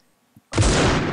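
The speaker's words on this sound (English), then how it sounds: "Oh, and the explosion of the nade." A grenade explodes in the mobile shooter Critical Ops: a single sudden, loud, broadband blast that lingers as a dense roar, preceded by a faint small knock.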